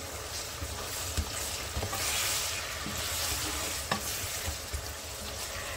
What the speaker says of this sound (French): ça, c'est juste pour mélanger